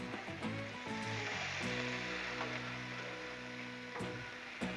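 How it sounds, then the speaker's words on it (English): Potato crisps topped with cheese, bacon and buffalo sauce sizzle steadily on a Blackstone griddle, a dense continuous frying hiss with a few scraping flips of a spatula and a low hum underneath. "Let's give them all a good flip."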